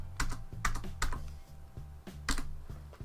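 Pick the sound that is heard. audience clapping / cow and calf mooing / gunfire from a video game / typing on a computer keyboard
typing on a computer keyboard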